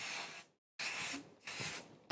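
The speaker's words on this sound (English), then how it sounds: "So I am going to use the adhesive spray." Adhesive spray hisses onto leather during chaps making. There are three short bursts, with a clear pause after the first, sounding close and fairly soft with no talking.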